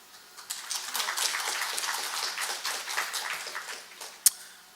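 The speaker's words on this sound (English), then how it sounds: "with a big applause." Audience at a symposium marking the 10th anniversary of the National Institute of Ecology applauds to welcome a speaker, a dense, steady spread of clapping that swells and fades over several seconds, ending with one sharp louder clap.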